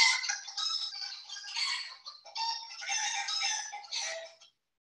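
Several chickens cluck and squawk in busy overlapping bursts, a sound effect played during a children's storybook reading, fairly faint and heard alone without talk, stopping abruptly before the end.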